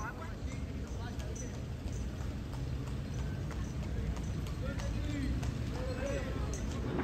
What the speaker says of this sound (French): Ah bah regardez, à côté, il y a un cheval.